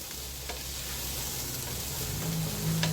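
Food sautéing in a pan gives a steady, close sizzle with faint stirring scrapes over a low background hum, no voices over it.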